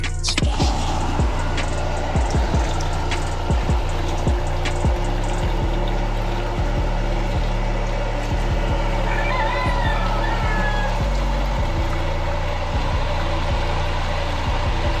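Continuous loud drone of a small water pump engine on a poultry farm, running steadily at close range, with rhythmic low thumping and faint voices underneath.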